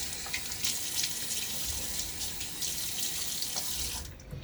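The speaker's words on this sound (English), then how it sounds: "I'm going to now throw a little water on my face as a pre-shave." Running water from a sink tap splashes and pours steadily as it is thrown onto the face before a wet shave, a close, continuous rushing with brief splashy bursts, ending abruptly.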